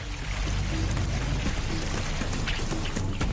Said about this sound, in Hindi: ओडिशा के गंजाम में बारिश ने इस कदर कोहराम मचाया है